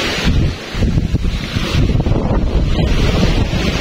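Loud, continuous surf pounding against rocks at Ilig-Iligan Beach, Boracay, with heavy wind buffeting the microphone throughout; no voices.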